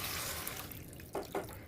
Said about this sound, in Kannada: ಇವಾಗ ಇದಕ್ಕೆ ನಾನು ನೀರು ಸೇರಿಸ್ಕೊಳ್ತೇನೆ